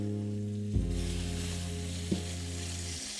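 Chicken sizzles steadily in oil in a hot pan, a continuous close frying hiss with a couple of soft bumps as it is moved, no voices.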